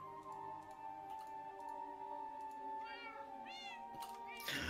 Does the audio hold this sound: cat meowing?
yes